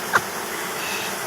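A caught honeybee swarm fills the air with a dense, steady buzzing hum, close and continuous, with one bee zipping briefly past.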